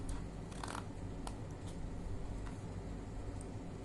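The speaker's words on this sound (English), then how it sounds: "Now take the bigger rectangles and make a cut for about 10 centimeters." Scissors cutting paper rectangles for a paper craft, a few quiet close snips and crisp paper rustles scattered over a soft background hiss.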